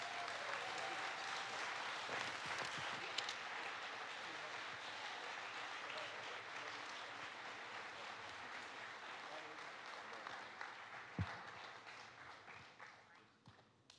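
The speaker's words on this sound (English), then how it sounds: "Would you give them a round of applause for being with us today?" A church audience gives a sustained round of applause, dense clapping filling the room at steady loudness before thinning out and fading toward the end.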